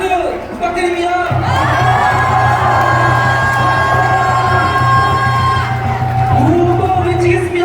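A large crowd cheers and shouts loudly at an outdoor rally in front of Pusan National University, Busan, a dense roar of voices with whoops rising over a steady hum, sustained throughout.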